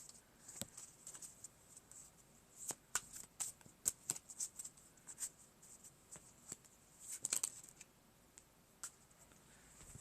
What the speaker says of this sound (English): I'll be shuffling the trade deck